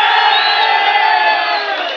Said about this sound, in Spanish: aplausos, gritos y chiflas